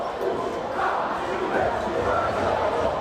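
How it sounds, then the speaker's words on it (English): A busy crowd at a Herriman versus Riverton high school basketball game roars and chatters steadily in an indoor gym, a dense continuous wall of cheering and voices. "These crowds very involved tonight."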